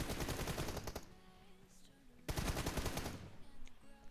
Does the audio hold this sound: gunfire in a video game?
yes